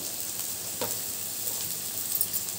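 Carrot and French bean pieces frying in a pan for vegetable fried rice, a continuous close hiss of sizzling with a few light stirring scrapes.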